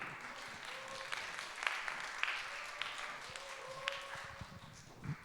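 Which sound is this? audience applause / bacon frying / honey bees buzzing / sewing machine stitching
audience applause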